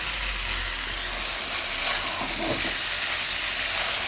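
Wheat flour noodles cook in a pan with a steady, even sizzle of frying that holds through, with faint stirring touches and no voices.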